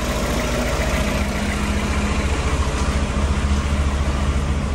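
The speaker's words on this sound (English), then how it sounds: "So we're idling at about 650 or so, which is a little low." A Mazda Miata 1.8 engine idles low and steady, a continuous rumbling hum with a faint even pulse throughout, close and alone with no talking.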